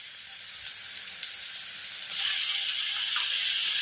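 Onions, green chilli and ginger garlic paste sizzle steadily in a hot oiled pan for a Tamil side dish for chapati, a close, continuous frying hiss that swells slightly as the paste goes in.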